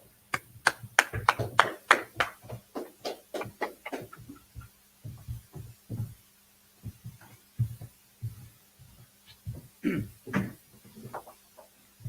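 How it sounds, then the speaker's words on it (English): A class claps in loose bursts, hollow and low-pitched, a volley of quick claps followed by scattered, uneven groups with quiet gaps between them, set against a faint steady hum. "Clap it up"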